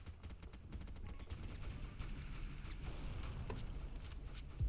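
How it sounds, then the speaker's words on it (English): Gunfire in the Roblox game Mad City, heard as a dense rattle of rapid shots through a noisy game mix, steady and fairly faint throughout. "I just hear gunfire"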